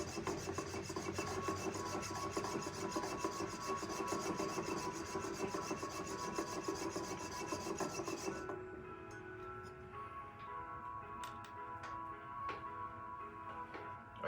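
Metal jump rings being sawn off a mandrel on a Durston jump ring former make a steady, close rasping scrape that runs for about eight seconds, then drops to a faint background with a few light ticks.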